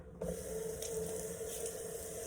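Tap water runs in a steady, moderately close stream into a sink as a tea towel is dampened, starting abruptly and continuing unbroken without talk.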